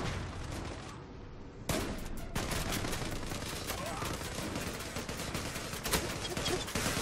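Shotgun and rapid gunfire crack in the Turkish online shooter game Zula, dense, loud bursts of shots layered over one another, briefly thinner at the start before a sustained barrage.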